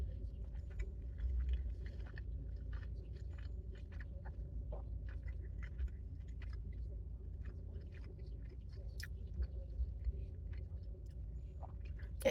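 Close, faint chewing of a mouthful of Chipotle brisket burrito, soft wet mastication and small clicks over a low, steady room hum.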